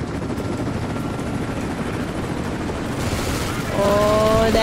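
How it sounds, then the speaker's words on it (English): Helicopter in the video game Rise of the Tomb Raider, a steady loud rotor roar amid combat noise and distant blasts, with a rising whine near the end. "Oh, damn helicopter!"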